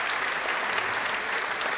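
Seminar audience clapping steadily throughout, a dense, even wash of many hands at moderate loudness with no voices over it.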